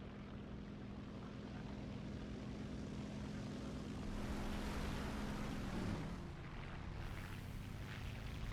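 Piston engine of a Bf 109 F-4 propeller fighter in a flight combat video game, a steady loud droning roar holding throughout with a pitch shift near the end, no voices.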